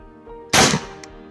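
An air rifle fires a single pellet outdoors on a cold, windy range, one sharp loud crack with a short ringing tail that fades over a low steady background hum.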